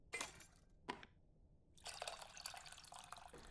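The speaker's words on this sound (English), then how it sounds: "warm water, mix, and pour through the sieve." Tamarind water being poured through a sieve into a bowl in the cooking game Venba: two short splashy drips, a pause, then a longer trickling pour, quiet and close.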